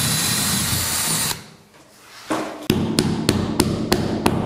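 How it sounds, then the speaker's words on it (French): A power drill bores a hole in a bathroom wall for a shower rail, a loud steady whine that cuts off, followed after a brief lull by a series of sharp, evenly spaced taps. "je trace le point de perçage. Voilà. Maintenant, perçage."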